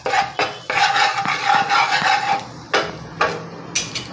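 A spoon scrapes and clatters in a metal pan while chili powder and chopped coriander are stirred together for masala pav, in steady close strokes broken by short pauses and sharp taps against the pan.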